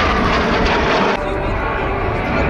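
A jet aircraft flying a slow-roll display at the RIAT air show gives a loud, continuous roar that shifts partway through, heard over a commentator's voice.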